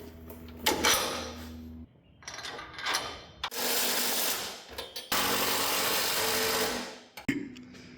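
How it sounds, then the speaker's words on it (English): Bolts being fitted into a truck's front-end bracket during rework, heard as bursts of close power-tool whirring and metallic rattling separated by short pauses. "let's slam these bolts in there"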